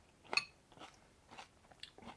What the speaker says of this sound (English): I swear these have got more crunch